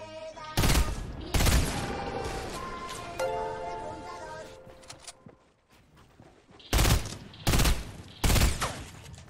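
Loud bursts of gunfire in the video game Fortnite, several sharp shot clusters at the start and three more near the end, separated by quieter stretches where someone speaks.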